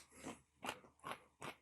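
Crispy chocolate clusters being bitten and chewed close up, producing three or four quiet crunchy bursts in a steady rhythm with brief pauses between them.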